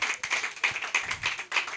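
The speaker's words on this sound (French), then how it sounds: "On applaudit, s'il vous plaît" An audience at a French stand-up comedy show claps in a brief, steady burst of applause, close and fairly dense, with no talking over it.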